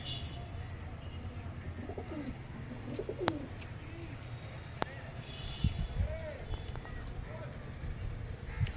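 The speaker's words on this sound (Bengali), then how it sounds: "দেশি পায়রা আপনাদেরকে দেখাচ্ছি" Native pigeons cooing softly in a loft, low repeated coos under steady background noise, with a few sharp knocks and brief clicks, and a voice present.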